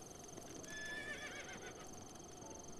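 A horse in The Legend of Zelda: Breath of the Wild gives one wavering neigh over a steady background of game ambience, moderately close.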